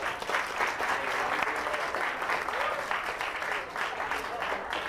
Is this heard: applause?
yes